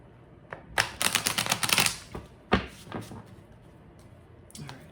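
A deck of tarot cards shuffled by hand, a burst of rapid riffling flutters followed by a few separate card slaps and quieter rustling, close and fairly soft.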